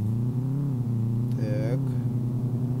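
Mercedes-Benz GLS engine accelerating in Euro Truck Simulator 2, a steady droning hum that rises in pitch, with a brief higher whine midway as it climbs through the revs.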